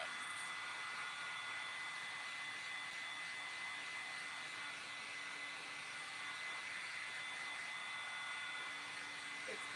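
Hair dryer blowing on a thrifted craft item, a steady, even whooshing roar with a faint high whine, running continuously at close range without a break.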